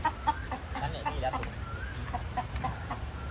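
Chickens cluck in short repeated bursts over a steady, noisy background, with a voice faintly present.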